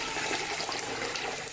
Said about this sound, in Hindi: ये पानी डाल रहे हैं